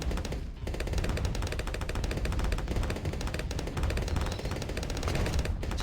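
Rapid bursts of mortar fire in a video game, crackling and overlapping in dense, near-continuous volleys with a brief lull near the start, mid-level and busy with no talk.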